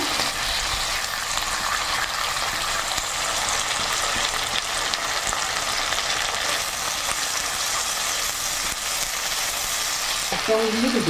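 Ingredients fry in oil with ginger paste for a vegetarian curry, a loud, continuous close-up sizzle that hardly varies, ending with a short stir. No one speaks.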